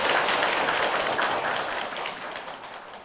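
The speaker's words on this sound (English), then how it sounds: "Let's welcome our teacher with the warmest applause and pure, sincere hearts." Warm applause from an audience welcoming a teacher to a talk, a dense wash of clapping that slowly fades toward the end.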